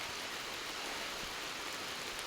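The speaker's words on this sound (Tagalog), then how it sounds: "Umuulan. Araw-araw ang ulan dito sa Sabah, Malaysia." Steady rain falling in Sabah, Malaysia, a dense, even hiss of drops that holds at a constant level throughout with no voices.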